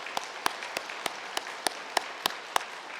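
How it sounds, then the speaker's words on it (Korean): Sparse, evenly spaced hand claps from a church congregation welcoming pastors during a Sunday service, faint and steady with a regular beat of about three claps per second. "박수로 맞아주시면 감사하겠습니다."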